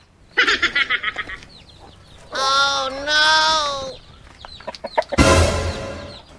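A chicken clucks in a quick run of short notes, then lets out a longer drawn-out call, followed by a brief noisy burst close by.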